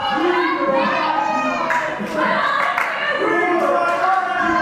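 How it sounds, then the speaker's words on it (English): A wrestling crowd at a UKW Friday Night Showdown event chants at wrestler Leone Rose, a loud, steady mass of voices filling the arena with rhythmic swells and no pauses. "this crowd chanting, "We don't like you" at Leone"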